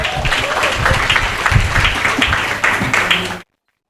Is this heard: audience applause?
yes